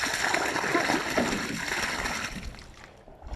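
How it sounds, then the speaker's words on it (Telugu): Irrigation water flows and splashes into channels of a farm field, a continuous rushing, sloshing wash nearby that fades toward the end. "ఇగో నీళ్ళు కడుతున్నాను నేనైతే"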